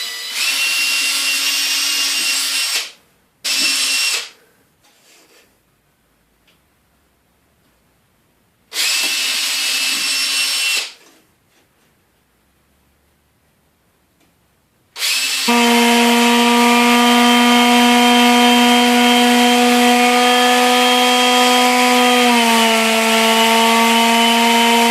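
Scroll saw cutting a wooden Christmas reindeer decoration freehand, with short loud buzzing runs separated by pauses, then a long steady whine near the end.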